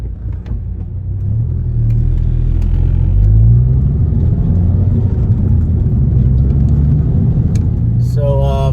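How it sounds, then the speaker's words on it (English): A Ford Focus ST fitted with race motor mounts rumbles along on a road drive, a steady low engine and road drone building early and holding, heard from inside the car. "let's go ahead and take a little test drive"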